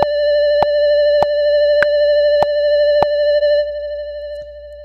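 A steady synthesizer lead note held at one pitch with a slight wavering vibrato, repeated sharp clicks cutting in at even intervals before it fades.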